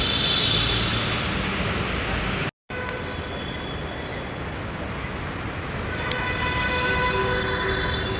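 A metro train rumbles and hisses steadily nearby, with brief tonal squeals and a momentary cutout partway through.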